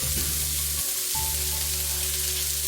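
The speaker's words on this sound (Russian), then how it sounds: "на раскаленной сковороде обжариваю крупно порезанную морковь" Coarsely cut carrots fry in a hot pan, giving a steady, loud sizzle with a constant low hum underneath that briefly drops out, and no talk.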